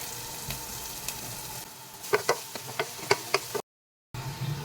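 White onion seasoned with a little salt and sugar fries in a pan for carbonara, giving a steady close sizzle punctuated by sharp crackles and ticks, then a brief dropout before the hiss resumes.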